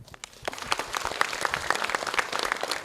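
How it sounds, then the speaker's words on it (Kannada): A college audience at Srinivas College claps together, crisp individual hand claps building into a quick, uneven flurry that grows denser and stays moderately close. "ಕೈಯನ್ನು ಎತ್ತು ಚಪ್ಪಾಳೆ ತಟ್ಟು"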